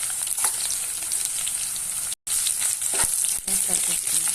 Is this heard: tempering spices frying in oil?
yes